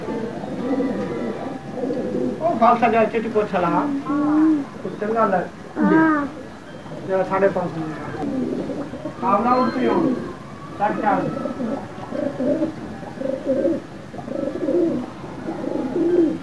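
Pigeons coo repeatedly in a loft, rolling throaty calls rising and falling close by, with someone speaking over the birds.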